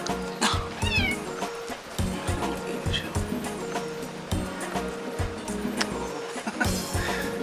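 A pet cat meows indoors, several close, drawn-out rising meows spread across the stretch, with background rustle and bumps.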